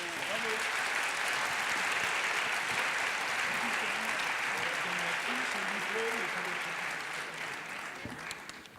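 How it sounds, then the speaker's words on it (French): An audience at a scientific society's poster-competition prize ceremony gives sustained loud applause for the prize winners, fading toward the end, with voices faintly mixed under the clapping. "Merci de les applaudir encore."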